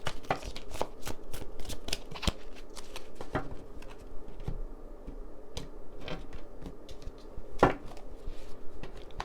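Tarot cards from a Light Seers Tarot deck being shuffled by hand, a steady run of crisp riffling clicks and flicks close to the microphone, with no talking.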